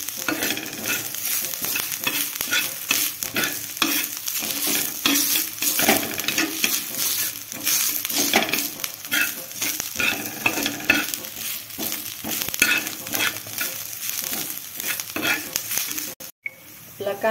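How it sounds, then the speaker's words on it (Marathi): Onion and coriander stems sauté in a pan with salt, a continuous sizzle broken by frequent scraping stirs of a spatula, close and fairly loud, ending with a sharp knock. "कांदा पण चांगला परतून घ्यायचा"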